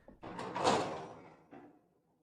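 A door swings open, a creak and a soft scrape swelling then fading, with a second lighter knock-like sound near the end, heard alone and close.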